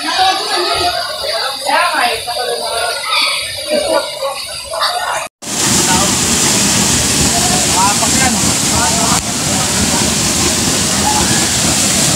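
Puray Falls pours down in a strong, continuous roar of heavy falling water, loud and close, with sloshing and broadband rush. A brief dropout falls midway, and a faint voice is partly buried under the din.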